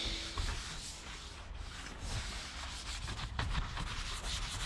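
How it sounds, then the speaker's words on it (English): A brush scrubs grime off the surface of an old, abandoned car, giving a steady, close rasping rub with irregular strokes and no voices. "Now I'm scrubbing with a brush."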